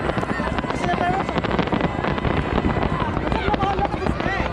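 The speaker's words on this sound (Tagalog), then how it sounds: "You see the fireworks?" Fireworks at an air show in Busan crackle and pop in rapid, dense bursts, with wind buffeting the microphone and voices talking over the steady barrage.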